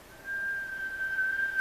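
A person whistles a single steady, sustained high note lasting over a second, close and clear in a quiet room with no talking.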